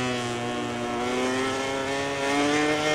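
A MotoGP race bike in a video game holds a loud, continuous engine whine that climbs steadily in pitch as the throttle opens, with no talking over it.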